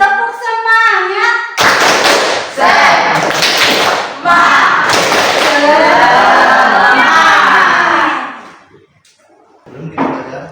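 Students in a classroom repeat the 'tepuk semangat' clapping chant, loud rhythmic hand claps and group chanting in several bursts, then a pause and a short voice at the end.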